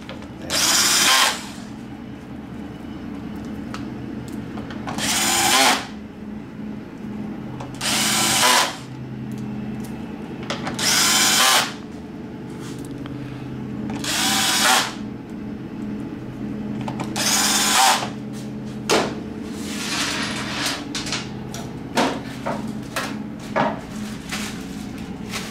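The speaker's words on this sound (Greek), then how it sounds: "Αυτές τις βίδες τις σφίξαμε αυτές." Power tool driving screws on a SYM 300cc scooter during drive belt work: repeated loud whirring bursts of a few seconds each, separated by quieter workshop sounds, close by.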